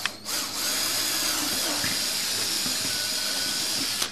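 A power drill boring ventilation holes through plastic purple martin gourds whines steadily and loud for several seconds, with a brief start at the beginning and a stop at the end.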